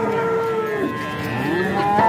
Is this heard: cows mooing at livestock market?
yes